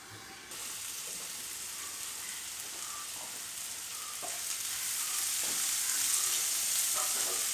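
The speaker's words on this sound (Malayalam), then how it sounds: "ഇനി ഒരല്പസമയം നമുക്കിതൊന്ന് മൂടി വെച്ച് വേവിക്കണം" Green chili tamarind curry cooking covered in a pan: a steady hissing sizzle that swells slightly louder toward the end, with occasional small pops and bubbles, close and alone with no talk.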